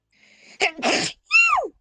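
A single loud sneeze close by, with a sharp inhale, a burst of breath, and a squeaky vocal tail at the end.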